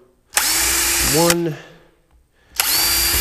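A power drill bores into a wooden nest box in two loud, sustained bursts with a brief whine as the motor slows between them; a voice counts over the first burst.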